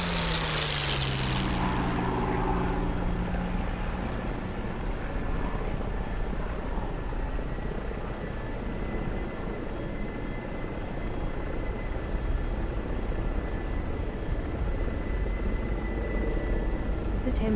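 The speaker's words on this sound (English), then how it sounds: "I will be in the F4U1D Corsair, the best plane ever made" Propeller drone of an F4U-1D Corsair's piston engine in the DCS flight simulator, a loud, steady roar that runs the whole length after a brief rising whine at the start, with no talk over it.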